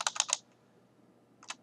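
Computer keyboard being typed on with backspace presses: a quick burst of three or four crisp clicks, a pause, then one more isolated keystroke, all quiet and close with no talk.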